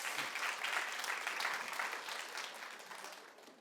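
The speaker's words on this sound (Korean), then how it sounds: "박수 좀 보내주세요." A church congregation claps during a sermon, a dense burst of applause that swells quickly and then gradually fades over a few seconds.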